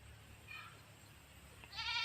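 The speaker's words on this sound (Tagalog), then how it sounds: "tumatawag na yung mga kambing" Goats calling on a rural farm, two short bleats, the second louder and nearer, over quiet background.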